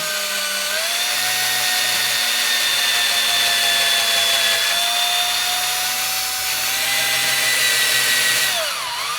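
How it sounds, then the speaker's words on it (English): A power drill whines continuously at close range as it bores into wood, its pitch dipping slightly under load before winding down at the end. "When you're going to go ahead and drill your holes, just make it nice and slow."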